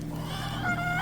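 A goose honks on Polyface Farm, its nasal calls rising near the end of a short stretch over steady low farmyard background noise.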